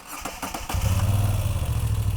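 A 2018 Moto Guzzi V9 Bobber's transverse V-twin cranks with a few quick starter pulses, then catches and settles into a loud, close, lumpy idle with no voices.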